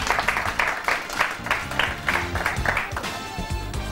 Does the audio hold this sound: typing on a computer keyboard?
no